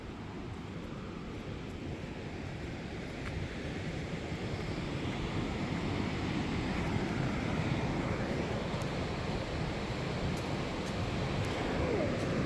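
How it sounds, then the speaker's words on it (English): A broad, continuous rushing roar of water that grows slightly louder over time, like a waterfall heard from nearby at Fall Creek Falls State Park, with no talking. "It sounds like it's going to be a big waterfall."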